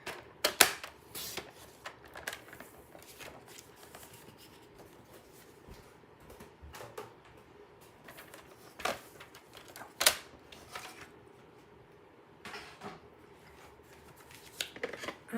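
Card stock being trimmed to size for a handmade card, faint scattered clicks and short cutting strokes close by in a quiet room.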